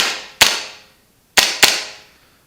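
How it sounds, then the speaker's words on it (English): A Cool Fire recoil-simulating training pistol fires three sharp, loud pops, one alone and then two in quick succession, each with a short fading tail. "of course the cool fire system to simulate the recoil"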